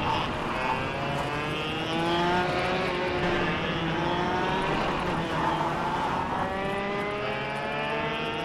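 Buzzy kart engines from a ghost kart in the KartKraft racing game, a steady loud droning whine with rising and falling harmonic sweeps as the revs climb and shift, constant throughout.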